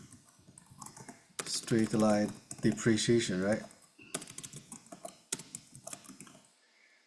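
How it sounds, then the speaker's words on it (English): Quick bursts of computer keyboard typing, close and crisp, clatter at the start and again later in scattered runs, partly under a person speaking. "Sorry, my typing,"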